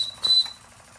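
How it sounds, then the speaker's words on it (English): Steam whistle on an Empire 90 "Power Boy" toy steam engine, one short, thin, high-pitched toot rising briefly above faint background hiss before fading. "Whistle sounds great."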